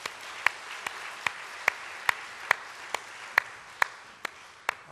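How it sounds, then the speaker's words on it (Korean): A church congregation claps in rhythmic applause for the choir, sharp regular claps in a steady beat heard over a reverberant hall, with no talking. "우리 찬양대를 위해서 감사의 박수 한번 합니다."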